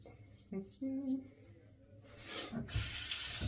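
A vintage 1955 ball-end safety razor is rinsed under a running tap, giving a soft splashing water hiss after a few small clinks and rubs, building louder toward the end; a voice murmurs briefly.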